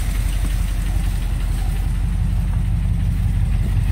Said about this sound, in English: Kind of want it to stay on high idle for a little longer.